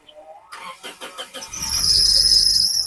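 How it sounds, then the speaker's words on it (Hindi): A Toyota Hiace with a 2TR engine and an ECM fault code P0010 cranks with a rapid chugging for about a second, then catches and settles into a steady, close idle with a high whine. "स्टार्ट करते हैं गाड़ी। गाड़ी की स्टार्टिंग भी लंबी है।"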